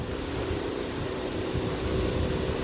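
Wind moves through white poplar leaves outdoors, making a steady, broad, airy rustle and hiss with no pauses, at a moderate level and without speech.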